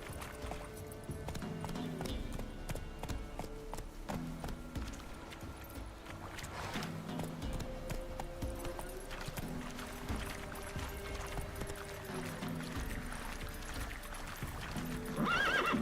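Roach the horse in Witcher 3 gallops with a rhythmic clip-clop of hooves and lets out neighs, heard over a low game score at moderate level.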